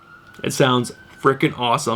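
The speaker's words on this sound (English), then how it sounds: "I'm sorry if you guys hear that siren in the background" An emergency siren outside, heard through open windows, holds a faint steady tone in the background beneath close, lively speech.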